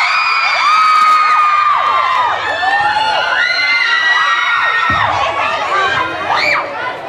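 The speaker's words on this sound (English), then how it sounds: "Give these guys a huge round of applause" A crowd of schoolchildren cheers and shouts for a visiting boy band, with high excited whoops and squeals rising and falling over several seconds, close and loud, with some voices calling out.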